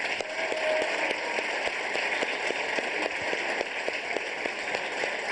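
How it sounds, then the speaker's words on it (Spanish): Brigade members applaud together at an outdoor Aló Presidente broadcast, a dense, steady patter of clapping held at moderate distance through the whole stretch, with no voices over it. "Vamos a darle un aplauso desde aquí, pues"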